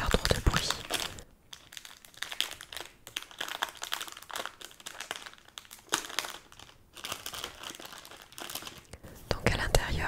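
Crinkly plastic packaging from a purchase is opened up close, with repeated crackling and rustling bursts and brief quiet gaps, and soft whispering from a person heard in between.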